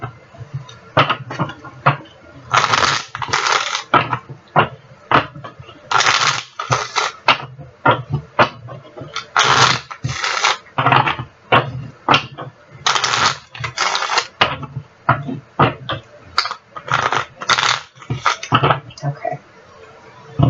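Small tarot cards are shuffled by hand in repeated quick bursts of riffling and tapping, close and fairly loud, with brief pauses between rounds.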